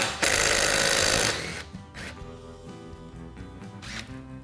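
A wrench running in reverse loosens the lug nuts on a Polaris Ranger 500 wheel in one loud, whirring burst just over a second long, followed by quieter background sound.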